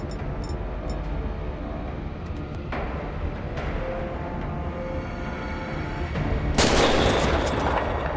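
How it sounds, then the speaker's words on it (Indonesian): Several sharp unsuppressed gunshots from a video game crack out at irregular intervals, the last one loud and close, over a continuous low rumble of background noise. "suara tembakan nggak pakai suppressor ya?"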